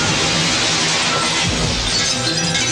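Window glass shatters in a staged film stunt, a dense, loud crash of breaking panes with broad hiss and a heavier low thump midway, filling the whole stretch with no talk.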